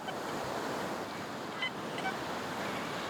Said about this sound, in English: So we're on the wet sand at the beach